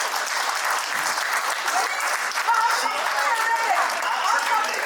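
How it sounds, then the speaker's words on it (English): Audience at an alumni meet breaking into sustained applause, a dense wash of clapping from many hands that holds steady and fairly loud for the whole stretch. "Round of applause for Nutan ma'am, please."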